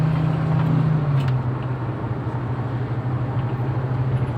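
The engine of a 2013 Toyota Rush hums steadily after a shift into fourth gear, a continuous low drone with road and cabin rumble, its pitch dipping slightly around the change and then holding even.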